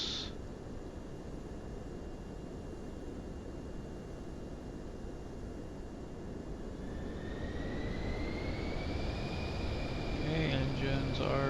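The twin jet engines of a PC-24 in the flight simulator MSFS 2024 hum steadily, then spool up with a rising whine that grows louder toward the end, while a voice talks over it.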